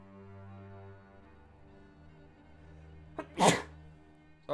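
A single sharp sneeze bursts out near the end, loud and close, against a quiet room with a steady low hum during a tabletop role-playing game session.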